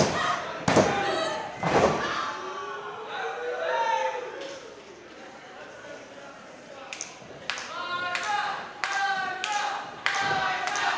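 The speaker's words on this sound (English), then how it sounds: "And Spinelli with a power slam reversal" Sharp thuds and slams of a wrestling match on the mat at Studio Nightclub, several heavy impacts spread across the stretch, with a commentator talking over the action and a crowd in the background.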